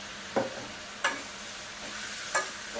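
A spoon scrapes and knocks through potato and green capsicum sabzi in a pan, giving three sharp, separate strokes over a faint, steady sizzle.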